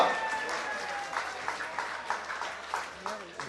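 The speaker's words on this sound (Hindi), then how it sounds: "आपकी भरपूर तालियों में" Audience at a political workers' convention claps in a steady round of applause, with individual claps standing out over a busy crowd background.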